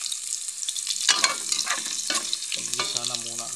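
Onion and garlic sauté in a pan for ginataang kamansi, a steady close sizzle broken by a few scraping stirs, with no voices.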